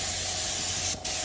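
A spray gun lays blueberry candy paint onto a 1984 Chevrolet C10 truck in a continuous loud hiss that cuts out for a moment near the end and then resumes.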